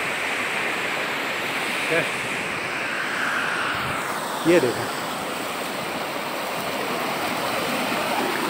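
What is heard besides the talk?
waterfall fed by a spring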